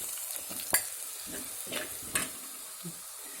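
Chili, coriander and turmeric powders fry in a pan for a fish and prawn curry, giving a faint, steady sizzle broken by a few soft stirring scrapes and clicks.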